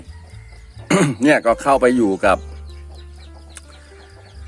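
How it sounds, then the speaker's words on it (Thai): A hen gives a few short clucks, close by, while someone talks over them, followed by quieter farmyard background. "นี่แม่ไก่ตัวใหม่"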